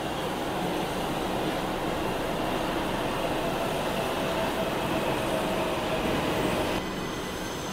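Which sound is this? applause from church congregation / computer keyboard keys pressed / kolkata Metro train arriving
kolkata Metro train arriving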